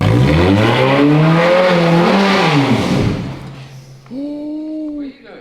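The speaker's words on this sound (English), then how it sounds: "It feels like there's some kind of restriction when revving the car" A Ferrari engine, an ex-rental car under rebuild, revving loudly and close with a held rise and fall in pitch, dropping away, then a shorter second rev that cuts off abruptly.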